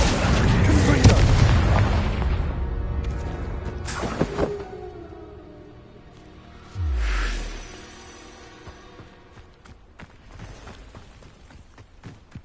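Confringo fire-blast spell cast in Hogwarts Legacy, heard as loud booming bursts with a deep impact rumble, one strong blast early and another mid-way, amid game effects.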